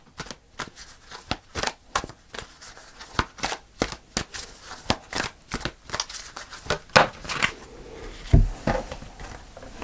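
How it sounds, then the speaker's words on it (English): Tarot cards being shuffled and pulled make a rapid series of crisp riffling slaps and flicks, close and fairly loud, in uneven bursts over nearly ten seconds. "Let's pull a final card."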